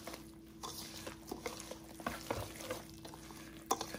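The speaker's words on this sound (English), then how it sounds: "per the instructions, we're to mix the dry ingredients into the wet ingredients" Quiet, soft stirring and scraping of a corn batter, dry ingredients worked into wet ones by hand, with small irregular clicks and no voices.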